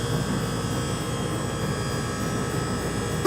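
An ice cream maker's compressor runs steadily and loudly for the whole stretch, a dense continuous mechanical hum and whir with no pauses or voices, while apple pie ice cream churns.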